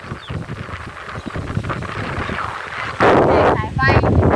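Strong wind buffets a microphone outdoors, a rough continuous rumble that swells louder partway through, with faint speech and other noises partly buried beneath it.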